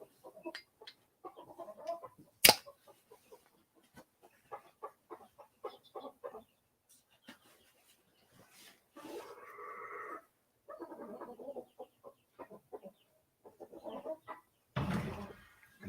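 A flustered backyard rooster clucks in short, irregular bursts, with a few sharper squawks and quiet gaps between the calls, heard alone at moderate distance.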